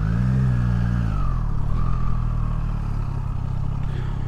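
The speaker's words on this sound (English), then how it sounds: "let's park the bike right here" A 2022 Triumph Street Triple RS motorcycle being parked: the engine idles and a falling rev tone drops away in the first second and a half, leaving a steady low rumble with some light clatter, no speech.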